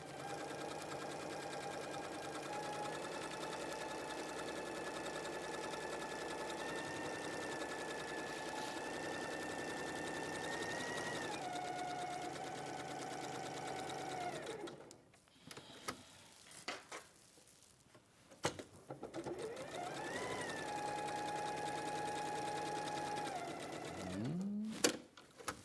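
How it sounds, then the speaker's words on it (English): Sewing machine stitching quilt pieces with a quarter-inch seam along a dotted line for a Melrose Place Stone Path quilt: a steady, close mechanical whir that runs long, stops briefly, then resumes in shorter bursts. "I'm sewing on the dotted line"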